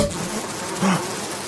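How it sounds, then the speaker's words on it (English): A swarm of bees in a sudden, brief burst, a soft buzzing hum that swells for a moment over a low, steady background, with no voices. "Usidore just disappeared into a puff of bees"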